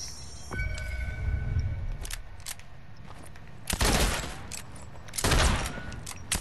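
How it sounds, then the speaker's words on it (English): Video game gunfire comes in two loud, dense bursts of rapid shots, each lasting about a second, over a quieter in-game background with faint scattered shots. "Is that you shooting or getting shot at"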